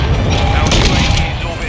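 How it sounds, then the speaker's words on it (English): A cruise missile strike explodes in the video game Modern Warfare 2, a loud sustained booming rumble with crashing debris filling the short stretch, close and dense throughout. "Friendly cruise missile inbound."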